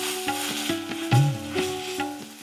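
Vegetables sautéed with black pepper, red chili sauce and tomato sauce are stirred in a pan, a spoon scraping in repeated strokes over a soft sizzle and a low steady hum, with no talking.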